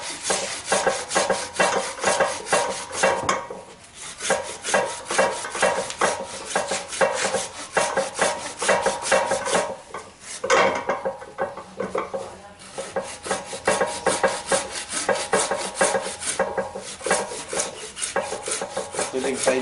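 A newly collected bonsai tree trunk is sanded by hand, giving continuous rhythmic rasping strokes against the wood, close and steady with a few brief pauses and no speech.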